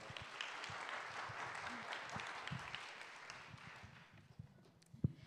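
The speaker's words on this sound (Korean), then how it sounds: "우리 박수 한번 하겠습니다." A church congregation claps together after a prayer, a soft, fairly distant patter of hands that thins out near the end, capped by one sharp knock.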